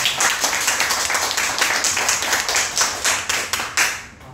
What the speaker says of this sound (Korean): 박수로 함께 환영합니다